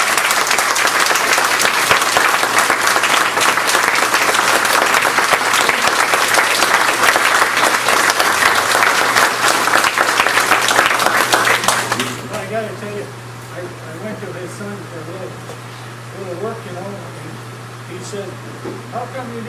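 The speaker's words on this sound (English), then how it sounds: "So I'd like to give Robert a big round of applause." A banquet audience applauds loudly for about twelve seconds, dense steady clapping that then cuts off abruptly, leaving quiet room tone with a steady hum and scattered faint voices.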